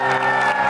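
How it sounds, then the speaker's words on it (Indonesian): A studio audience of women at a televised dating show cheers and claps in a short, loud burst of crowd noise. "Ladies, boleh berikan tepuk tangan buat sang mama."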